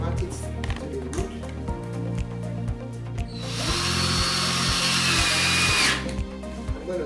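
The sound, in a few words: screwdriver driving a screw into wood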